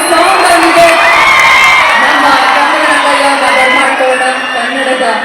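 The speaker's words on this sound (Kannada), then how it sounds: "ಜೋರದ ಚಪ್ಪಾಳೆ" A large audience at a Kannada literary conference cheers loudly, with whoops and shouting and likely clapping, forming a sustained, near roar that fades slightly toward the end.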